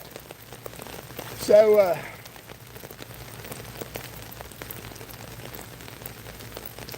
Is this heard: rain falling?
yes